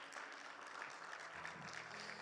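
Applause rises from a church audience at the close of a Bible class, a steady wash of clapping, faint and distant, with no voices over it.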